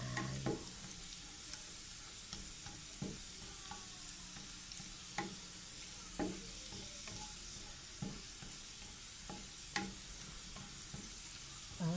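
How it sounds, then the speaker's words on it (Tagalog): Garlic for tokwa sisig frying in oil until golden, a soft continuous sizzle with light spatula taps and stirring scrapes at irregular intervals, close and quiet, with no voices. "Isa ng bawang. Hayaan muna natin mag golden brown ng konti."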